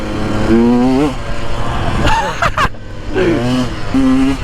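A 2022 KTM 150 dirt bike being ridden, its engine revving in rising and falling pitched bursts, close and loud, with speech over it and a short sharp noise in the middle.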